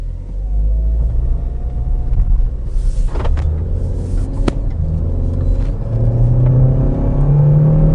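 2008 Saturn Astra 5-door XR driving and accelerating, a steady low engine rumble and road drone heard from inside, rising slightly in pitch toward the end, with a couple of brief knocks.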